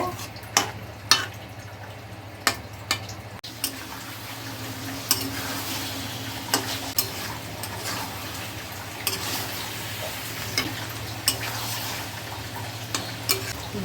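Elephant foot yam curry is sautéed and stirred in a pan, with repeated spatula scrapes and knocks against the metal at irregular intervals over a continuous soft sizzle, heard up close.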